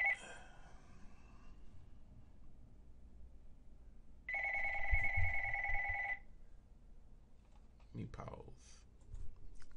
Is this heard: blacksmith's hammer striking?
no